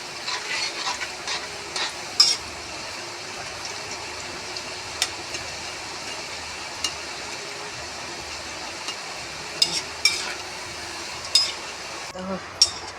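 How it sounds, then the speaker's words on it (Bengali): Nimki, a Bengali flour snack, fries in hot oil with a soft continuous sizzle, broken by occasional clinks and scrapes of a utensil against the pan. "দেখো কেমন করে আমি নিমকি ভাজছি"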